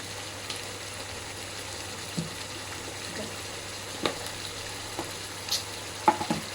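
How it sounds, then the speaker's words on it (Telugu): Prawns fry with coriander and mint in a pan for gongura prawn biryani, a soft, steady sizzle heard up close with a few faint clicks and spatters near the end. "ఇలా వేగి వరకు వేయించుకోవాలి రొయ్యని. ఇందులోనే కొత్తిమీర వేసుకున్నాం, పుదీనా కూడా వేసుకున్నాం."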